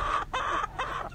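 A Rhode Island chicken clucks in a free-range setting, making three close, clear, nasal clucks in quick succession with short pauses between them.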